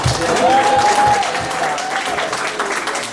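Audience applause at a comedy show, a dense, loud burst of clapping and crowd noise that holds steadily throughout, with a voice faintly audible underneath.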